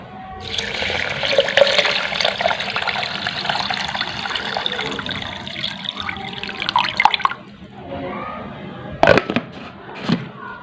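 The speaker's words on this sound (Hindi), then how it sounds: "और इसमें पानी शामिल कर देंगे।" Water pours noisily into a jug of cherries, sugar and black salt for a cherry juice drink, a loud continuous splashing stream that stops abruptly, followed by a few clinks and drips.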